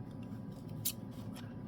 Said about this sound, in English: There's some scissors. I can always use these.